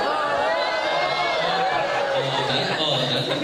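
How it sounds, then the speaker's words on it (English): A student debate audience reacts to a speaker with a dense, loud wash of crowd chatter and murmuring, plus some scattered laughter, lasting through the whole stretch. "A very passionate response from the crowd there"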